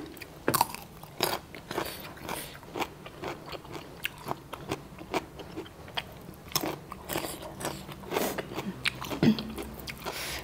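Close, crisp crunching bites into Thai crispy pork belly, with repeated sharp chewing crunches in an irregular rhythm throughout and no talk.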